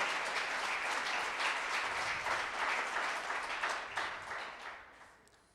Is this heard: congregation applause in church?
yes